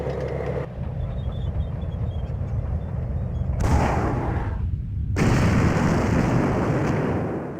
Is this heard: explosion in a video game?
yes